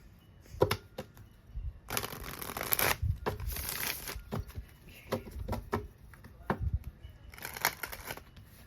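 Tarot cards being shuffled and drawn close up, with bursts of riffling and flicking separated by softer taps and brief pauses.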